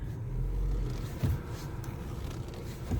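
A car engine runs at a low, steady idle during a clutch test, a quiet rumble with a brief bump partway through.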